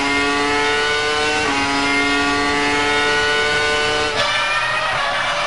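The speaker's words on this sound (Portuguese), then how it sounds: "Essa é a câmera que é colocada ali no bico do carro do Rubinho" A Formula 1 car from the 2003 Austrian Grand Prix, heard from a camera mounted on its nose, screams at high revs in a loud, steady whine, with an upshift partway through and a sharper gear change near the end.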